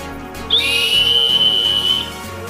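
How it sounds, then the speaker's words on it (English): A simple stainless steel emergency whistle, blown indoors, gives one shrill, steady blast that lasts about a second and a half and stands out clearly above a quiet room. "Last but not least, we have the emergency whistle."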